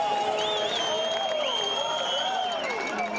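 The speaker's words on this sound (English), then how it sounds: "the crowd goes absolutely wild for this young rider" Crowd roaring and cheering wildly for a young French downhill mountain bike rider at a race finish, a loud sustained wash of cheers, whistles and horns with a commentator's voice running over it.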